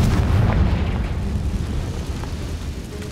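A Confringo spell blasts a barricade in Hogwarts Legacy, a loud, deep booming explosion that rumbles heavily at the start and slowly decays into a lingering roar.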